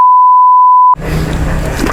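A steady pure electronic beep tone holds for almost a second, loud and clean, then cuts off abruptly into workshop room noise and low background sound.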